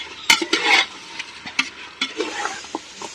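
Ginger-garlic paste sautéed in a pan for chicken biryani, with scraping and stirring strokes over a low steady sizzle, loudest in the first second and recurring in short bursts, with no voices.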